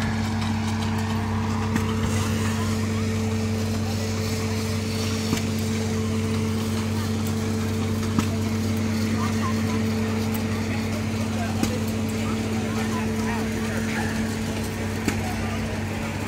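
An old engine-powered sawmill runs at a cherry fair on a historic farm, giving a steady low droning hum with strong constant tones that persists evenly throughout, with faint background activity over it.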